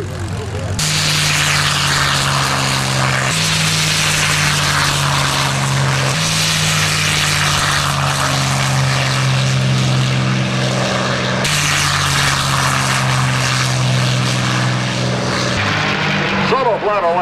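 Loud, steady drone of several P-51 propeller fighter engines in flight, a sustained heavy roar with shifting pitch as the formation passes, continuous for the whole stretch with no voices.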